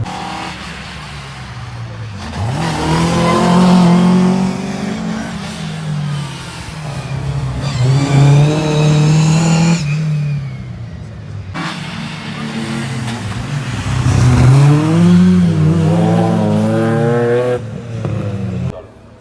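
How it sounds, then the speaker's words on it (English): Rally cars racing at Cadwell Park during an end-of-season meeting, with engines revving loudly through repeated gear changes and acceleration passes, surging and fading across the track without talk. "one car on the track"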